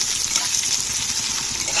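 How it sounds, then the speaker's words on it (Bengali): Onions fry lightly in oil, a brief close hiss of steady sizzling with no voices. "পেঁয়াজগুলোকে একটু হালকা ভেজে নিতে হবে"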